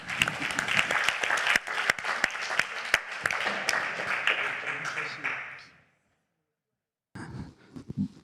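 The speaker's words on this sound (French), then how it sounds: "Vous pouvez l'applaudir également, s'il vous plaît" Audience applause at a literary prize ceremony, with sharp individual claps standing out over the crowd, fading to silence after about six seconds before a brief burst of sound returns.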